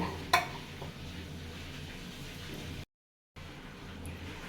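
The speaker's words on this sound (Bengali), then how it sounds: "এখন আমি পেঁয়াজ দিয়ে দিব" Onions tip into a hot pan for a fish curry and start frying, a steady sizzle with light stirring scrapes and one sharp clink near the start, briefly cutting out before the sizzle resumes.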